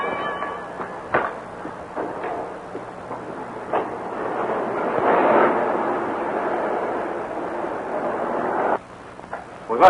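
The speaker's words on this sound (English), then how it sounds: "Whoever it is who set that explosion will expect we were all killed." Explosions from a 1936 film serial come as a sharp crack followed by a long roaring rumble, with further thuds and bangs. The blasts are loud and there is no talk.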